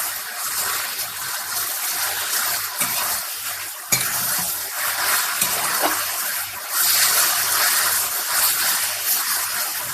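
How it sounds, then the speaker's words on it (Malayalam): Ten leaves curry (pathilakkary) with turmeric being stirred in a pan, giving a steady close sizzle with soft scraping and stirring strokes, continuous and without talk. "ഇത് ഇളക്കാം."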